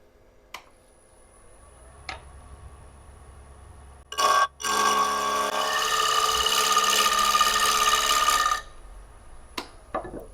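A bowl gouge cutting a fragile plywood lighthouse on a wood lathe: a few sharp taps, then a loud, steady scraping hiss for about four seconds before stopping.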